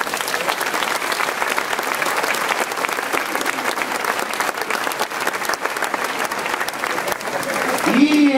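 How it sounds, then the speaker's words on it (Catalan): Crowd applause at a street parade in Novelda, a dense steady wash of clapping lasting throughout, with a voice speaking briefly near the end. "Per això mos demanem un aplaudiment per als boatos."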